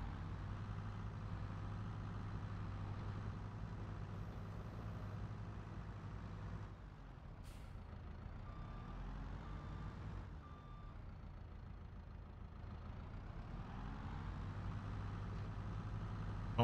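A vehicle in Farming Simulator 22 drives with a steady engine drone, easing off briefly and then rising again, and a faint beep sounds in between.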